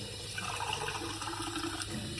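Cold tap water runs steadily from a faucet into a sink, a dense, even rush of water close by with no pauses.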